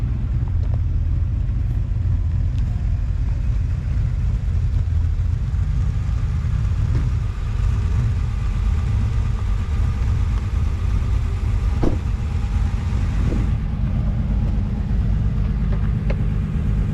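A Mercedes 300SL's engine idles and rumbles nearby as it pulls into a Supercar Sunday car show, a steady low drone with a couple of faint clicks and no voices.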